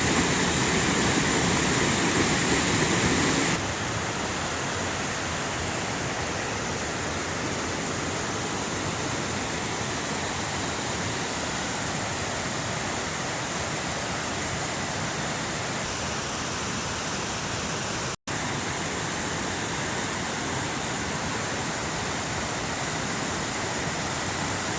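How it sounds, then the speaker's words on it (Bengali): Constant rushing hiss of falling water from a waterfall in a quiet, secluded spot, a steady broadband roar that dips slightly in level after the first few seconds, with one brief click and no talking. "এই ঝর্ণার জলের আওয়াজ।"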